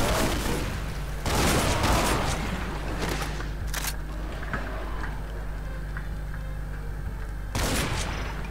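Weapon fire from Project Brutality in Ultimate Doom run through GZDoom, with loud bursts of rapid shots at the start and the end and quieter clicks and thuds between them.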